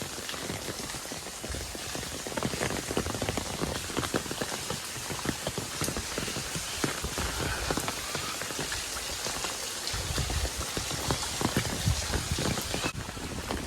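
Steady rain falls in Punjab, a continuous dense patter of drops on hard surfaces that stays even throughout, with no voices.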